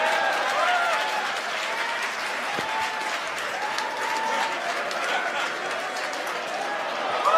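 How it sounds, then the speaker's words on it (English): SpaceX team members cheer and clap at the CRS-16 resupply launch to the International Space Station, a steady broadband wash of crowd noise sustained throughout, with speech mixed in. "if you guys can hear the cheering in the background from my team members"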